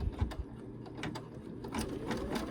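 An embroidery machine stitches around the edge of a fabric coaster, giving a close, rhythmic mechanical whirring with gear-like clicks and soft thumps that continues without pause.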